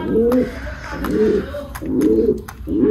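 Caged pigeons cooing at close range in the morning, with repeated soft throaty coos rolling in a steady rhythm, one phrase after another, alone with no talk over them.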